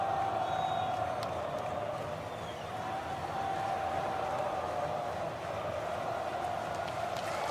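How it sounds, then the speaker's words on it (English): Crowd cheering at a marble race, a dense and steady roar of many voices that holds at an even level throughout, sounding somewhat distant and washed together. "The crowd is going absolutely crazy."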